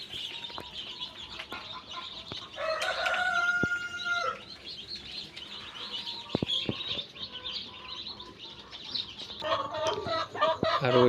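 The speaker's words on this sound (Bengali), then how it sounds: "আর ওইগুলো হচ্ছে আমার প্যারেন্টস, টাইগার মুরগির প্যারেন্টস" Tiger breed parent-stock chickens on a poultry farm: one loud, nearby rooster crow stands out mid-way, surrounded by scattered clucks, sharp clicks and flock chatter, with a burst of clucking near the end.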